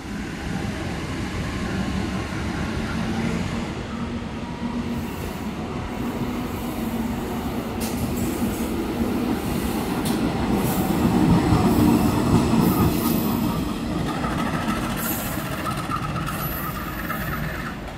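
A locomotive rolls through a busy Jakarta railway station, its loud continuous rumble and rail clatter swelling slightly near the middle and holding steady throughout, with no voices.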